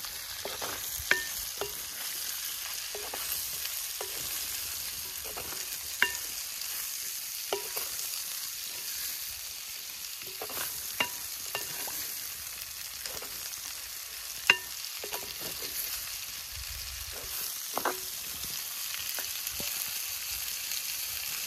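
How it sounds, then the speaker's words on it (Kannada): Onions sizzle steadily in a pan for a Kerala prawn roast cooked outdoors, a continuous bright frying hiss broken by occasional clicks and scrapes of stirring, with no talk. "ಒಂದು 3 ಈರುಳ್ಳಿ ಕಟ್ ಮಾಡಿಟ್ಟಿದ್ದೀನಿ ಅದನ್ನು ಸೇರಿಸ್ಕೊಳ್ಳೋಣ ರೋಸ್ಟಿಗೆ"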